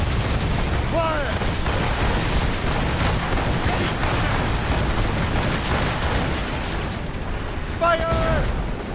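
Ship cannons fire in a naval battle in Assassin's Creed Rogue, a continuous loud rumbling barrage of booms with shouted commands rising above it now and then.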